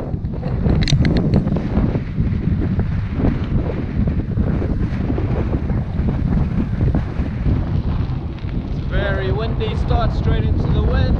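Heavy wind buffeting the microphone while cycling along the Spanish coast on the Ruta de la Plata, a constant loud roar throughout, with someone speaking briefly near the end.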